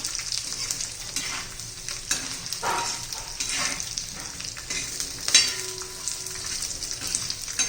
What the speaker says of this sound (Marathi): डाळी छान असा खमंग खरपूस भाजून घ्यायचा आहे हे सर्व मंद गॅसवरच भाजायचं आहे आपल्याला